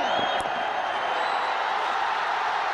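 A cricket crowd at an India versus Australia test match cheers a big six. The roar is broad and steady, a distant wash of whooping and applause that holds evenly throughout.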